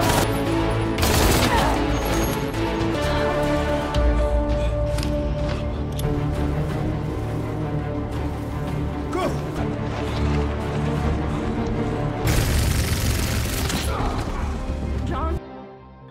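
Gunfire in a film action scene, bursts of shots and heavy impacts layered over a loud, dense score, with sharp crashes standing out near the start and again toward the end.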